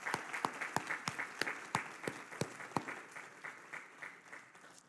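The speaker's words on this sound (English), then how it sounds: "let's thank them with a round of applause" A church congregation at Sunday morning worship applauding, fairly distant, with a handful of distinct claps standing out above a steady wash of softer clapping that gradually thins out.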